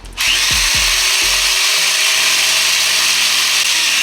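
An electric tufting gun runs at its higher speed setting. A loud, close, continuous mechanical buzz follows a few quick stuttering bursts as it comes up to speed, and there is no talk.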